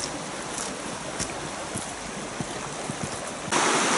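River water flows along the Rio Majaceite trail in Andalusia near a partly walled river pool, making a steady, soft rushing with a few faint ticks and swelling louder at the very end.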